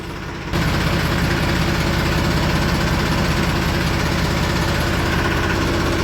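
A tractor engine runs steadily in a sugarcane field, a loud, continuous low rumble that kicks in after a brief quieter moment and holds without pause.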